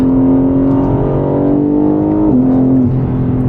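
A BMW G80 M3 pulls hard from close inside the cabin, its steady engine drone dipping sharply at a quick gear shift before climbing again, loud and continuous.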